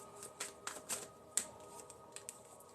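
Tarot cards shuffled by hand: soft papery riffles and light crisp flicks in quick, uneven bursts, faint and close with no voice over them.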